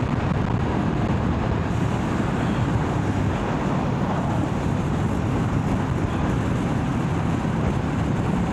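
A Royal Enfield Himalayan 452 motorcycle cruises steadily at about 60 mph, a constant low engine and road drone blended with heavy wind rush across the microphone, unbroken throughout.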